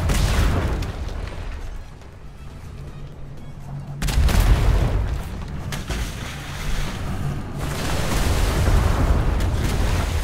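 A ship's cannon fires in the game Atlas, giving a heavy boom at about four seconds that rolls into a long low rumble, over a constant backdrop of ocean waves and creaking boat ambience.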